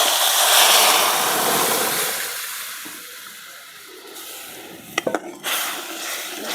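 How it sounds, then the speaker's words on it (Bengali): Dried fish lentil dal is poured into a pan of frying onions and garlic, a loud hissing sizzle that surges and slowly settles, followed by a few sharp close clinks of a utensil against the pan. "তো এখন আমি এই যে শুটকির ডাল ঢেলে দিলাম"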